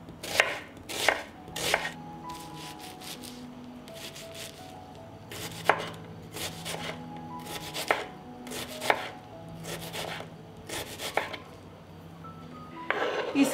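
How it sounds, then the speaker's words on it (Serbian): A knife chops through an onion on a cutting board at home, with bursts of sharp rapid taps separated by pauses, close and moderately loud. "Iseckala sam crni i beli luk"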